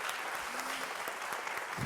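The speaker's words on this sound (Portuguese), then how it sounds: "Uma salva de palmas para os novos" A church congregation applauds newcomers at a worship service, a dense, continuous wash of many clapping hands, fairly distant and evenly sustained.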